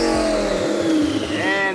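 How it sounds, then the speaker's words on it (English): A twin-turbo Lamborghini Huracan revs hard nearby on a modified supercar road run, a raspy rising engine note that climbs and dips over a couple of seconds. "That's the noise of a TT Huracan."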